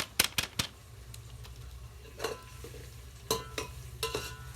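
Onion frying in oil in a pan over a wood-fired stove, with soft sizzling under a steady low hum, broken by several sharp scraping clacks of a spoon stirring against the pan.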